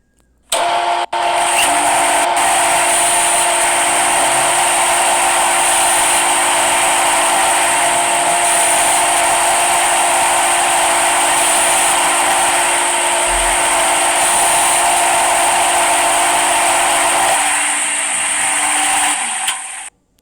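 A simulated CNC milling machine carving a workpiece in an Android simulator app produces a loud, continuous mechanical whine with steady tonal hum, starting abruptly and running unbroken for about twenty seconds before cutting off.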